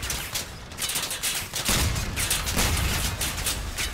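Vehicle-mounted weapons firing in the Crossout combat game, a rapid loud barrage of shots and heavy bursts that swells into a thicker volley midway.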